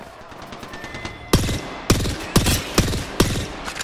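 Weapon fire in the video game Apex Legends, five sharp loud shots in an uneven rapid burst after a quieter lead-in with faint background game sounds.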